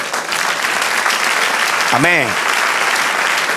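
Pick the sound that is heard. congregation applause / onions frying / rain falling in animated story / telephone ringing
congregation applause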